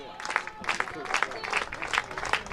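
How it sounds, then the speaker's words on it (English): A softball crowd applauds and cheers in scattered bursts of clapping, moderately distant, with a commentator talking over it. "Crowd comes to life here."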